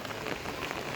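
Steady rain falling on surfaces outside, a dense even hiss of drops without pauses, fairly close and moderately loud, no voices.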